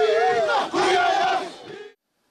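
A rousing street crowd at Pangia Station cheers and shouts together to welcome Prime Minister O'Neill, loud and close, a dense roar that dips briefly and then fades out within about two seconds.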